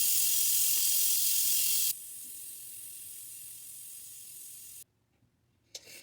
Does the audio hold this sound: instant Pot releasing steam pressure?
yes